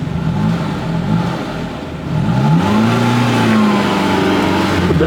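A carbureted Maruti Zen's engine revs steadily while the car reverses, a loud, close, continuous mid-pitched drone that rises in pitch partway through and then holds, with no talking.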